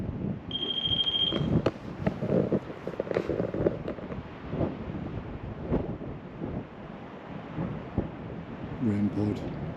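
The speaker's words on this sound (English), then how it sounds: "REM pod triggered." A REM pod ghost-hunting device sounds a brief high electronic beeping alarm during a winter investigation at a priory, heard amid wind noise and low rumbling, with a voice speaking around it.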